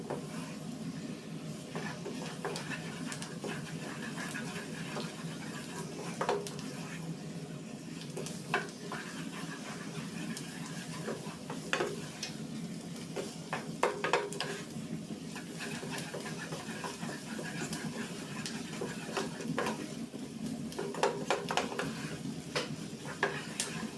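Flour being stirred into melted butter in a pan for a roux: soft, steady scraping and faint sizzling with scattered light clicks of a utensil, fairly quiet and continuous throughout.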